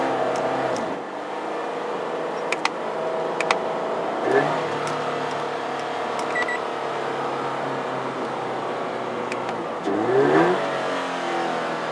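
A Scion FR-S engine roars continuously from inside the car. It blips sharply upward at a few moments during rev-matched downshifts, and a louder climbing rev rises near the end.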